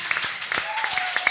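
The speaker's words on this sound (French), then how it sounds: "Est-ce qu'on peut donner des acclamations dignes?" Brief clapping from a church congregation, scattered individual claps mixed with cheering voices and a faint tone underneath.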